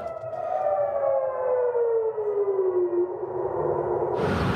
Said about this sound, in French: Les habitants ont été réveillés en pleine nuit par les sirènes d'alarme